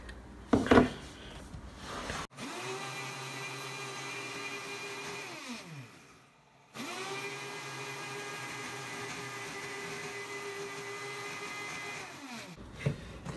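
A blender whirs steadily while blending a lemon ginger drink, running at a constant pitch, stopping briefly and starting again, with a few clatters of handling at the start and end.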